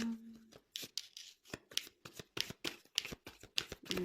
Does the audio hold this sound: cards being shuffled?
yes